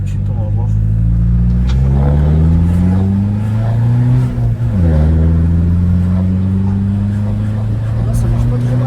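A 1990s Audi A4 B5 engine is revved up and held, its loud steady drone rising and falling in pitch with a brief dip midway, close and continuous throughout, just after a vacuum-circuit fault was fixed.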